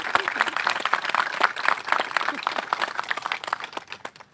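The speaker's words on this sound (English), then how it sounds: "Can we give all those groups a huge round of applause?" A crowd at a gun violence prevention awareness event claps for advocacy groups, a lively patter of many hands with sharp individual claps that slowly thins out, and faint voices mixed in beneath.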